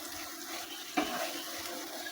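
Stuffed okra curry (bharela bhinda) being stirred in a pan, a soft continuous scraping and light sizzle with one brief louder knock near the middle, steady and close.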